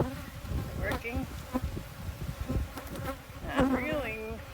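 Honeybees buzzing around a backyard hive in North Port, Florida, while new queens are installed; a steady close drone with individual bees whizzing past, voices briefly audible.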